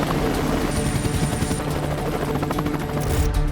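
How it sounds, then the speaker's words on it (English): An Indian Navy helicopter flies over the ocean, its rotor chop and turbine roar loud and steady throughout, with no talking. "Helicopters sweep the ocean,"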